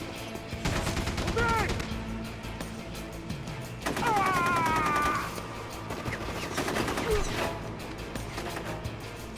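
AK rifle fire in the Rogue Warrior video game, with several bursts of rapid automatic shots at close range and loud crackling impacts between them.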